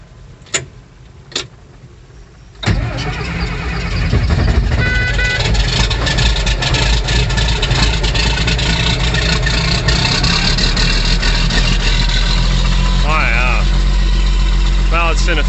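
An old vehicle on a cold day cranks after a couple of clicks, catches and settles into a loud, steady, slightly uneven idle with a ticking rhythm as it warms up.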